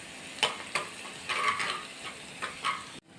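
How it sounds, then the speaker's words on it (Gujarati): Spices and onion sautéing in hot oil for a traditional Maharashtrian zunka, with a spoon stirring and scraping the pan in several short bursts over a steady soft sizzle, close and moderately loud. "1-2 મિનિટ માટે આપણે તેલમાં જે મસાલા કર્યા છે સરસ સોતરાય છે."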